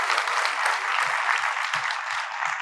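Steady, dense audience applause at a Haryanvi kavi sammelan poetry recital, continuous clapping from a large crowd throughout, fairly close and even in loudness.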